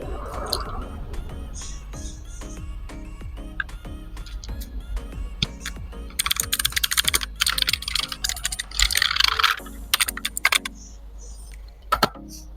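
Keys clatter steadily on an AULA F2058 mechanical gaming keyboard with mechanical switches, starting with a regular pace of crisp clicks and building into denser, louder bursts of rapid typing near the end.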